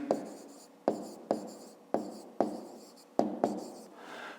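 A pen scratches out a maths answer on paper in a run of about seven short, crisp handwriting strokes, each starting sharply and trailing off, heard up close with no talking.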